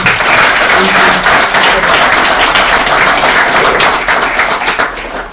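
An audience at a formal gathering with a consul general claps loudly and continuously, a dense wash of applause that tapers slightly toward the end.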